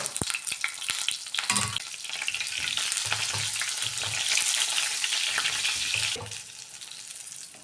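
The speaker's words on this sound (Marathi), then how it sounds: "आता ही आपण भरून घेतलेली वांगी ह्याच्यात सोडून अगोदर आहे ना वांगी छान तेलावरती परतून घ्यायची" Stuffed brinjals (eggplants) fry in hot oil in a Maharashtrian bharli vangi, a loud continuous sizzle and crackle with a few stirring scrapes and bumps, close up and without talk.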